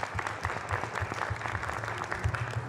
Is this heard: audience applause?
yes